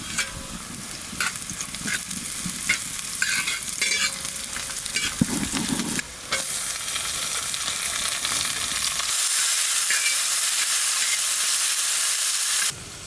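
Onions fry in a pan with chopped ginger and garlic for dal khichdi, a continuous sizzle broken by repeated scraping stirs of a spoon against the pan, with no talking.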